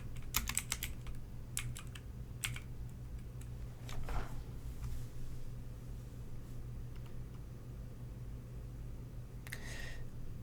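Fingers type on a computer keyboard in quick bursts of clicking keys, with scattered taps spread across the stretch and a quieter lull in the middle over a steady low hum of room noise.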